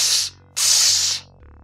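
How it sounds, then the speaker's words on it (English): A potion spray bottle in the EcoQuest video game fires two hissing bursts, a short spritz and then a longer spray, followed by a faint electronic tone. "finally now we can use the potion, which looks like a spray bottle"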